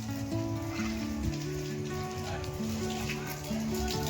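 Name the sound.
heavy rain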